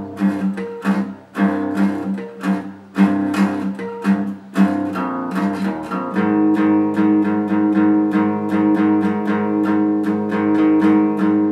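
Electric guitar riff for a song, played alone on distorted power chords in a steady repeating pattern, with choppy palm-muted hits at first, then sustained ringing chords in the second half.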